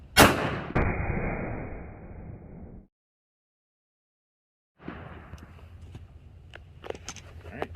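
A full-size Smith & Wesson M&P 9mm fires a Critical Duty round into a gel block with one sharp, loud report and a decaying echo, followed after a silent gap by faint shuffling and handling noises.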